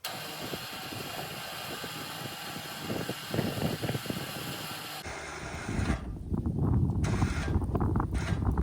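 An Apex 5500 lb electric winch pulls a trailer with a steady mechanical drone that shifts midway to a rougher, louder grinding hum with uneven surges, heard close by without talk.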